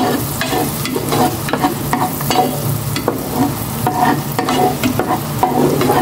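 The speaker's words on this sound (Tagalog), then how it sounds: "Gisa ko na itong bawang." Garlic sizzles as it sautés in a pan, with a steady frying hiss broken by repeated scraping strokes of a spatula stirring it close up.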